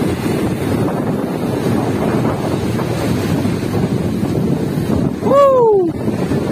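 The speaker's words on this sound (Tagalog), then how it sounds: "Gabi, lalaki ng alon." Big waves roll onto a beach at night at Lemery, Batangas, a steady loud wash of surf mixed with heavy wind buffeting the microphone, with a brief whistle-like sound near the end.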